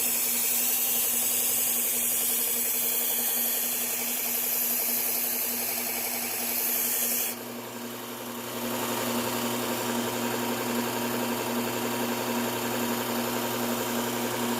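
A hunting knife blade of unknown steel is sharpened with a steady, loud whirring grind that dips briefly about halfway through, then carries on evenly.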